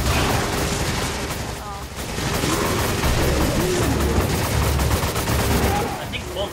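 Rapid gunfire in Resident Evil 5 co-op play, continuous bursts of shots with heavy, booming impacts filling the whole stretch, while voices talk over the action.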